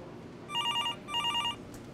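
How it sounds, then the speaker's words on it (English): A telephone rings in a bakery, two short electronic trilling bursts, clear and fairly close, with a brief gap between them and no talking. "Can you come get the phone?"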